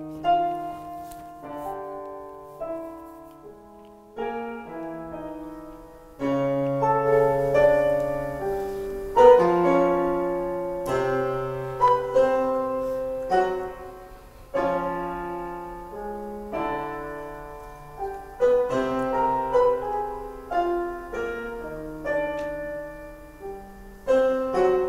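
Messiaen piano music playing a permutation of twelve notes, a sequence of separate struck chords and single notes with irregular rhythm and decaying tones, growing fuller after a sparse opening.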